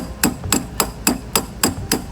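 A hammer strikes metal seven times in an even, steady rhythm, each hit a sharp ringing clank, close and alone.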